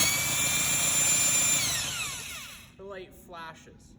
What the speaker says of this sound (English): when I spin the motor with the drill